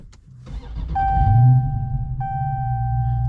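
A Dodge Challenger Scat Pack T/A 392 V8 engine cranks and roars to life, settling into a deep, rumbling idle with a steady chime tone sounding over it.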